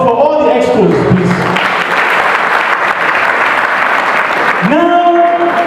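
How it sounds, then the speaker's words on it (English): An audience at a talk on eradicating poverty claps for the experts in a sustained burst of applause, with a speaker's amplified voice heard at the start and end. "a round of applause for all the experts"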